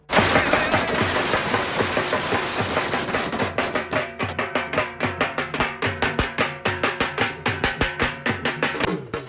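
Strings of firecrackers burst at street celebrations in India after the presidential election result, starting as dense rapid crackling and settling into a steady train of loud, sharp bangs close by.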